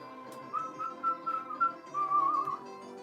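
Someone whistles a short tune, a series of clear rising and falling notes, fairly quiet and alone.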